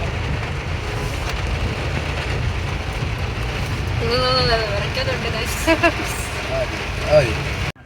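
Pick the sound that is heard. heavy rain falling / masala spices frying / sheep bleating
heavy rain falling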